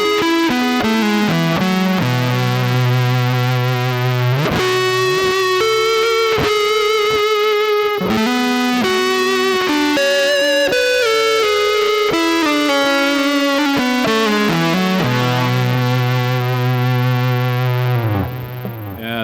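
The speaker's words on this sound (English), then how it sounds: "the signal chain is guitar, compressor, distortion, tape echo, the slow, and then the front end of the amp model" An electric guitar runs through a compressor, distortion, tape echo and reverb into an amp model, playing loud sustained distorted notes and chords with echoing trails, alone with no talk.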